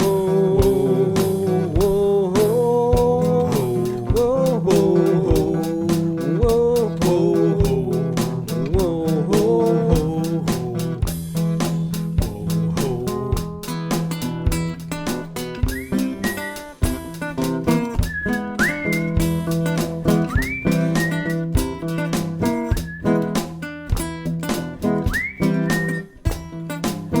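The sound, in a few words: person whistling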